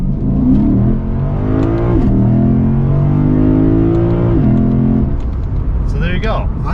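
A 2022 Lexus IS 500 pulls hard away from a green light, its engine revving loudly and climbing steadily through the gears, heard from inside the car with a brief voice near the end.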